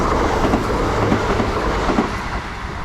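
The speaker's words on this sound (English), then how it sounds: "we do have a 170 passing through now, heading to Newark, Grimsby Town" A Class 170 diesel passenger train runs through a station at steady speed, a loud continuous rumble with rhythmic wheel clatter over rail joints filling the clip, close by and with no voices.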